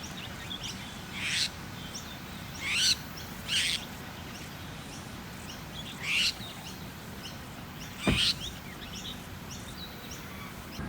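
Wild birds calling in the distance in the western New South Wales outback, a few short sharp calls spaced irregularly over a steady background hiss.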